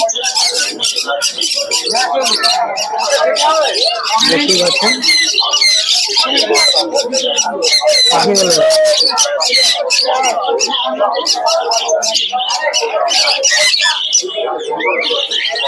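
Pigeons and other birds at the Krishnanagar bird market in Nadia, with frequent chirps and squawks close by over a constant background of people talking.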